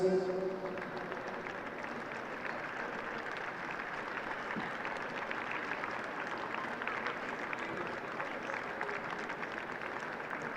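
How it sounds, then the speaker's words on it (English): Spectators at a national schools football final at Stoke City give both teams a steady round of applause, heard at a distance as a soft, even wash of clapping throughout. "just a round of applause again for both of our teams"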